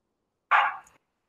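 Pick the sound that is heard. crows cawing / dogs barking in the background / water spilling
dogs barking in the background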